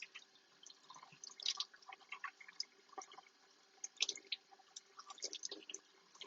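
Leeks rinsed under running water at a sink while the layers are pulled apart by hand, giving a steady trickle of faint, close splashes and drips with irregular small bursts throughout.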